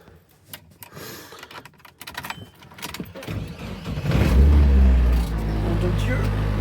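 Kei car being started: clicks and rattles of fumbling, then the engine cranks and catches into a loud, steady close idle, while someone speaks French.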